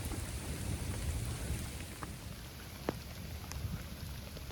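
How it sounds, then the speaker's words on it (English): Thunderstorm with sleet and hail pelting down outdoors, a dense steady hiss of falling ice and rain with a few sharp hard ticks and impacts scattered through it. "Big pieces of sleet."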